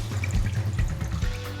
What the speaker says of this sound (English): I'm gonna add some water, about 2 cups, to the bottom of the pan.